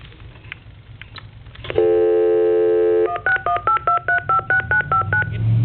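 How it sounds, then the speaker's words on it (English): Telephone redialing a stored number with DTMF tones: a long steady tone held for over a second, then a quick rhythmic series of about ten short dialing beeps, loud and close. "And then I'm going to hit redial."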